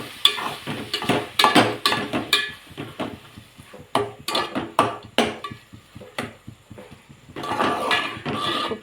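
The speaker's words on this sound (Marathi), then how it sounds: "आता घेऊया हे सगळं दोडकं किसलेलं ठेसून, याला करूया मिक्स" A spoon stirs grated ridge gourd chutney mixture in a pan, giving close, repeated scraping and clattering strokes with brief pauses, then a steadier scraping run toward the end.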